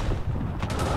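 Machine gun fire in the First World War shooter Verdun, a short, muffled burst of rapid reports with a couple of sharper cracks near the end, fairly distant and low in level.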